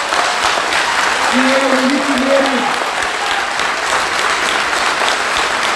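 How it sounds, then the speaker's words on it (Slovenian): A crowd applauds steadily at a political party rally, a dense and loud wash of clapping that persists throughout while someone speaks briefly over it. "z aplavzom podpremo slovensko policijo"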